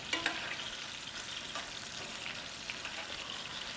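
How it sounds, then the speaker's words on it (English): Steak frying in a pan for a quick steak-and-rice dish, a steady close crackling sizzle with a few sharper pops early on and no talking. "while this cooks, this steak's cooking a little bit more"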